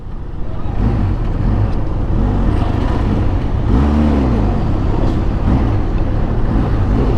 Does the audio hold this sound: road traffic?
yes